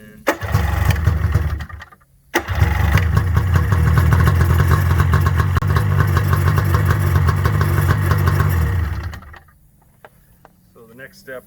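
An 85hp outboard motor on a JetJon boat build cranks, stalls briefly, then fires and idles with a loud, steady mid-pitched rumble before cutting off into near silence.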